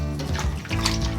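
Water draining and splashing off washed shrimp for homemade bagoong, a close, brief gush of running liquid with soft trickling.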